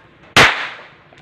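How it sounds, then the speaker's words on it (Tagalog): A homemade firecracker explodes inside a bullet casing with a single sharp, loud crack that fades in a short ringing decay, preceded by a faint quiet background. "napakinggan na ninyo kung gaano ba kalakas yung paputok namin noon"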